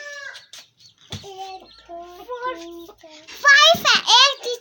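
A mother hen with newly hatched chicks clucks in short, repeated bursts near the microphone, and a voice breaks in toward the end.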